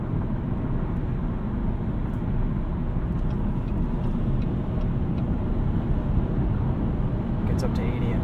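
A 2016 Chevrolet Volt cruising on the highway at 70 mph, with a constant broadband rush of road and wind noise inside the cabin and a steady low rumble throughout.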